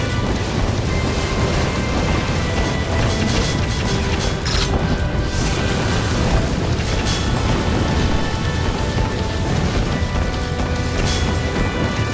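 Cannons fire and explosions erupt during a battle in the video game Drakengard 3, forming a loud, continuous barrage of heavy booms and rumbling crashes with sharper blasts scattered throughout and no clear talking.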